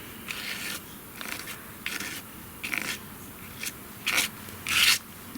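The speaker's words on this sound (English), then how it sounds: "I'm going to scrape a little off the top." Mixed media paste is scraped off the top of a surface in a series of short rasping strokes, about seven separate passes, close and fairly loud with quiet gaps between.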